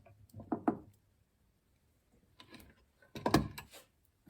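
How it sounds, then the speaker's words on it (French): Screws on a laboratory clamp are turned by hand in a school chemistry lab, giving three brief clusters of faint mechanical creaks and clicks separated by quiet gaps, close and dry. "Donc on tourne les vis."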